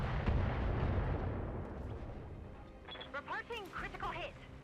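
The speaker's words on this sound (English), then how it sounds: "Going to use those long range missiles for some time." Long range missiles firing in Battletech, a deep rumbling barrage of launches and blasts rolling on for several seconds, followed by chirping electronic game tones.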